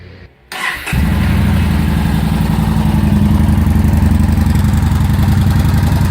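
A 2017 Yamaha SCR950 motorcycle engine cranks and fires up, then settles into a loud, steady, throbbing idle close by.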